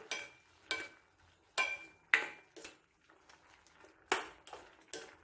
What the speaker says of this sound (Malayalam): നല്ലതുപോലെ മിക്സ് ചെയ്ത് കൊടുക്കാം